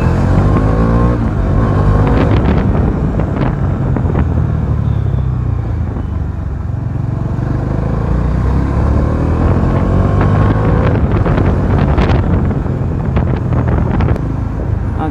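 A 2023 Bajaj Dominar 400 motorcycle is ridden at steady speed, engine drone loud and constant beneath heavy wind buffeting on the microphone, with no break throughout.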